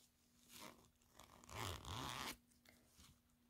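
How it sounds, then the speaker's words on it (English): Gold zipper on a plush fuchsia-and-gold makeup bag with a leather pull, drawn in a few quick rasping pulls with one longer zip in the middle; close, quiet, with no talking. "Gold zipper."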